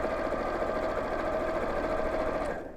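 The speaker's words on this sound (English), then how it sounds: "So let's sew that in place" A sewing machine stitches a zip tape in place at a fast, even pace, its close mechanical whir continuing before slowing to a stop.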